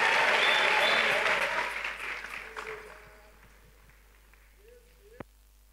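A church congregation applauds loudly as the preacher comes forward, dense clapping and cheering that fades over a few seconds into quiet room tone, ending with a single sharp knock.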